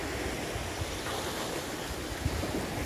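Surf washing steadily onto the east beach of Pulau Panjang at midday, a coconut-palm-lined tropical island shore with wind from the west, giving a continuous broadband wash with soft low rumbles and no clear breaks.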